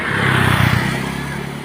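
A motorbike engine passes close by with a loud, steady drone that swells briefly and then holds on.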